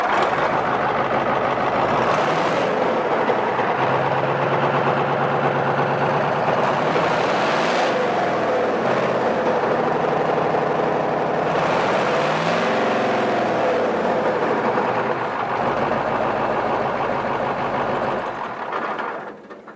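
A vintage engine called the Gooserooter runs steadily at a horsepower rally in Timaru, a loud continuous throb with a rough, pulsing rumble that wavers slightly before cutting out at the end.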